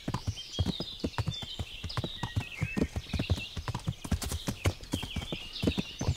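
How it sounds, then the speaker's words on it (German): A horse canters across the countryside in the game Kingdom Come: Deliverance, rhythmic hoofbeats pounding close and steady throughout, with a short whinny and a few snorts mixed in. "Wir kantern ja ein bisschen durch die Gegend"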